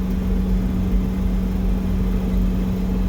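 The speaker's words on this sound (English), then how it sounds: "There's a high-pitched sound. You can kind of hear it." A dump truck engine with a suspected failing transmission idles with a steady low rumble, and a constant high-pitched whine runs over it throughout. The sound is close and fairly loud, with no talk.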